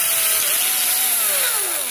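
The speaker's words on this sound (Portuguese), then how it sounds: "voltei aqui com a furadeira e a lixa" An electric drill spins sandpaper against a small piece of wood, thinning it for a bird call to attract the red-footed tinamou; a close, continuous high whine with a gritty rubbing texture that slowly shifts pitch.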